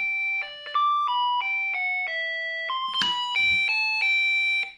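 A Snap Circuits music IC plays a bright electronic melody through a small speaker, a steady run of beeping tones stepping between pitches, loud and close with a brief click partway through.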